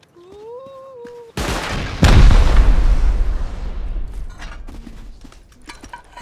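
A rocket launched and exploding in the survival video game Rust during a base raid: a sharp launch crack followed by a loud booming blast that rumbles and slowly decays, preceded by a brief tonal whine.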